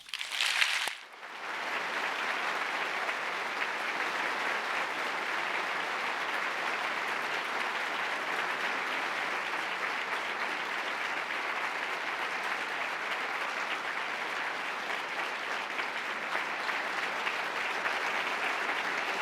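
A large audience applauds at length in a lecture hall as Nobel laureate Victor Ambros, 2024 Nobel Prize in Physiology or Medicine, is welcomed onto the stage. The clapping is steady and even for almost twenty seconds after a short opening sound.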